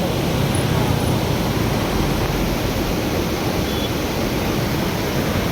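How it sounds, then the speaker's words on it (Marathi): Loud, steady roar of the flooded Terna river rushing over the top of a bridge, dense and continuous throughout, close by, with no speech. "पुलाचे एकदम वरून पाणी वाहतं"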